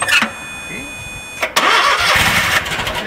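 A Wright Stander mower's engine cranks briefly, then catches and starts, settling into a loud close running rumble, with a voice talking over it.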